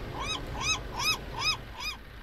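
Seagull calls in the Foxhole war game on the Farranac Coast map: five harsh, rising-and-falling cries at an even pace, each about a third of a second long, with a low rumble of ambience beneath them.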